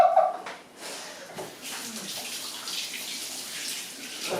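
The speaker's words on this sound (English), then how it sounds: "let me rinse off my hands real quick" Water from a kitchen tap runs steadily as hands are rinsed under it, a soft continuous splashing hiss heard close by after a brief clatter, with no talking.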